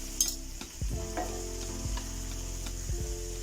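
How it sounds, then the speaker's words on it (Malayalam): Onions with turmeric, salt and chili powder sizzle steadily in a pan while a spoon scrapes and stirs in short repeated strokes, close and continuous with no voices. "നന്നായി ഒന്ന് ഇളക്കിയെടുക്കാം."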